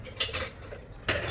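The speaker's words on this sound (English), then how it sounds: "Stir it properly" Marinated prawns being stirred into masala in a metal pan for biryani, a few sharp spoon-on-pan clinks and scrapes at close range, with no talking.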